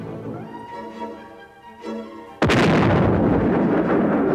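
A submarine fires its first surface shot from its deck gun. One sudden heavy cannon blast cuts in partway through and leaves a long, loud rumbling roar, after a quieter stretch of low mechanical hum.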